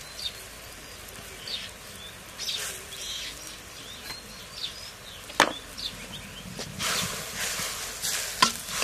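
Garlic and cumin paste fry in a pan with spices for a fish and cauliflower dish, heard as a low sizzle under irregular stirring scrapes and sharp utensil knocks.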